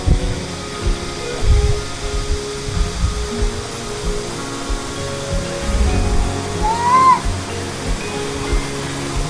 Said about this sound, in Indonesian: Ini ada juga air terjun.